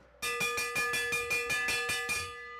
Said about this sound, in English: The bell is rung. It's time to go.